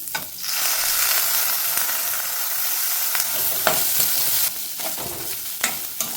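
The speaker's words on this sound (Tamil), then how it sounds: "உளுந்தும் கடலைப்பருப்பும் நல்லா செவக்காக வறுத்து" Urad dal and chana dal roast in a pan, with a steady dry sizzle and scraping stirs close by, plus a few sharper clinks.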